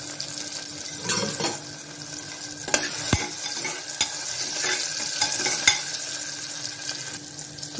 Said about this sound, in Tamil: கொஞ்சம் நேரம் வதங்கட்டும்.